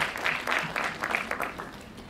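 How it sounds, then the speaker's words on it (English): A seated audience claps to welcome a guest being escorted to the dais at a student event in Goa, a steady round of applause from a moderately distant crowd lasting about two seconds. "Please give him a big round of applause."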